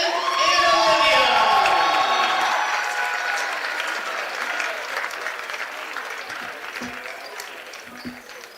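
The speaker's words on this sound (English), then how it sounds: "Let's give a round of applause to our graduates, Sam, Caitlin, and Olivia." A crowd at a University of Alaska Fairbanks women's basketball game applauds its graduating players. The loud, dense clapping with some cheering peaks early, then slowly fades and thins out.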